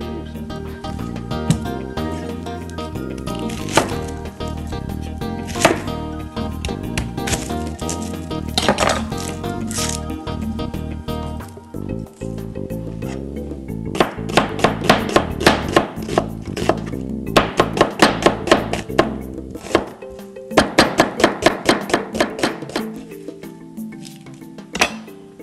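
A knife chops small yellow onions on a board in runs of quick, sharp strokes, loud and close, with clusters of rapid cuts separated by short pauses and scraping.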